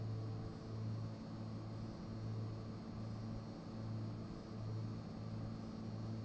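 A propeller airplane engine drones steadily in a flight simulator during a climb from NZKO toward NZNE, a continuous low hum with a slight pulsing throb, moderately quiet and without speech.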